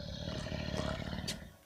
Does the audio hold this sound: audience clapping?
no